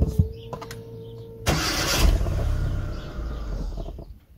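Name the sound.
car engine cranking without fuel pump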